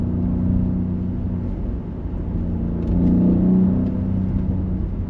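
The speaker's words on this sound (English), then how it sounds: "the exhaust and the aggression in this thing is unreal" Audi SQ7 SUV revving, with a deep steady exhaust rumble that swells around midway, heard from inside the cabin without talk.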